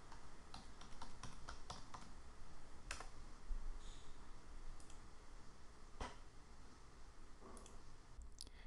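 A computer keyboard is typed on in quick, sparse bursts of crisp keystrokes over a low steady hiss, with a few louder isolated key presses and no speech.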